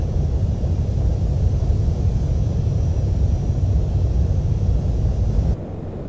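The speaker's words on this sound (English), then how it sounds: "We now extend our landing gear and extend our flaps." A steady, loud airliner roar fills the air as landing gear and flaps extend on the late-evening approach from Lihue to Honolulu, then the noise drops abruptly near the end.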